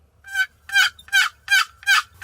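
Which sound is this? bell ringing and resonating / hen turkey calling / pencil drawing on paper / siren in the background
hen turkey calling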